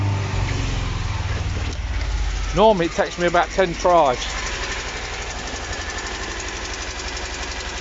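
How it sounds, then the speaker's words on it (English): A Talbot Express engine runs with a rough, knocking idle and rises in pitch as it revs, while someone talks over the mechanical noise. "and it's revving up as well."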